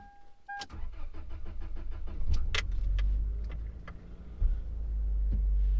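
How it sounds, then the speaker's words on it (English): A car engine cranks and catches on a hot day, preceded by a few clicks and a brief chime, then settles into a steady low idle with some interior rattles, close by and with no talk. "might as well start the car because it is hot out and I want the AC"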